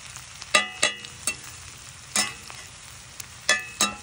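Meat sizzles with onion, garlic and olive oil over a campfire, with a low frying hiss and several sharp scraping stirs or clanks at irregular intervals, close by and without speech.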